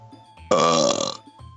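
A single loud, drawn-out burp, close and alone, lasting under a second and standing out sharply against near silence.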